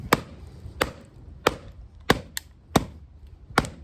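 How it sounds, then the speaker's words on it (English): Ka-Bar BK21 knife batoned into hard wood: six sharp, evenly spaced whacks about every two thirds of a second, with small cracking pops in between, close and crisp, with no voices. "I told you this is hard wood. It's cracking it"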